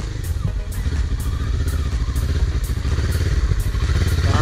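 A motorcycle engine putters loudly and steadily with rhythmic clattering bumps, up close and continuous, during a slow race.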